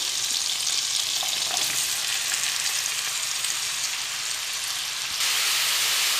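Onions and chicken fry in a pan with a dense, even sizzle that carries on unbroken and grows a little louder near the end.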